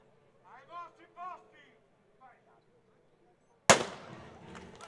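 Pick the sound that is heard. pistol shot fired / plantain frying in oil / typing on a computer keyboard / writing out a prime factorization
pistol shot fired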